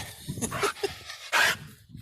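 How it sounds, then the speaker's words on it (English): A dog behind a fence pants rapidly and lets out a few short yips and a bark, close by, with breathy huffs between the calls. "This dog over here tries to jump the fence every time I walk by it."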